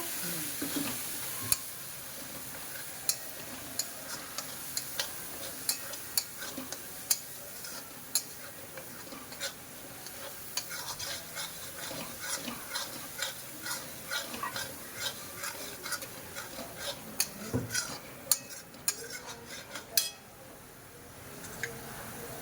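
Ginger and chillies sizzle softly in a pan over a low gas flame, stirred with a utensil that clicks and taps against the pan at an irregular pace, close and steady.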